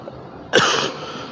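A single sharp cough from a man giving a religious talk rises from quiet room tone, loud and close, then fades into a short breathy tail.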